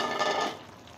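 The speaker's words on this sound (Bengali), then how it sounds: "আমি এখন মাছগুলার ভিতরে অ্যাড করে দিচ্ছি" Fish pieces sliding into a hot pan, giving one short burst of sizzling and frying noise that fades quickly, with no voices.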